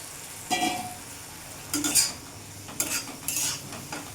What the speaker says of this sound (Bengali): এবার 2 থেকে 3 মিনিট আমি কষিয়ে নেব মশলার সাথে।